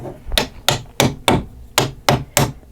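Plastic pegs on a Paw Patrol and Mickey Mouse pop-up pals toy tool box playset struck with a toy hammer, seven sharp knocks in a quick uneven rhythm, close and loud with no voices.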